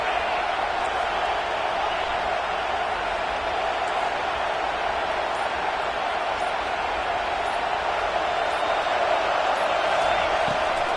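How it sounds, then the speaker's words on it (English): Football stadium crowd roaring steadily on a third down during a KML vs Clemson game, a dense, loud wash of cheering voices that holds and swells slightly throughout, with no single voice standing out. "Decibels rising as the crowd gets behind this defense on 3rd down."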